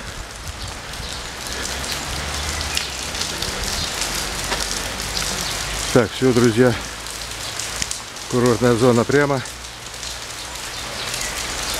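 Rain falls steadily in a constant dense hiss on a street in central Pyatigorsk, with someone speaking briefly twice over it.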